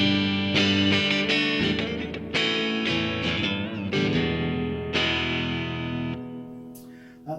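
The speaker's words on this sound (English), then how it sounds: "which is a nice really thick reverb." Guitar chords through a Vox AmPlug2 AC30 headphone amp drenched in thick reverb, several strums blooming and trailing off in long washy tails, loud and close.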